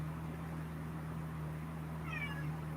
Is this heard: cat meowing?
yes